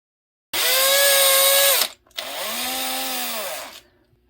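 A power drill with a 3mm bit boring a nylon Tamiya M01 suspension part whines loudly in two bursts separated by a brief pause, its pitch sagging as each run slows to a stop.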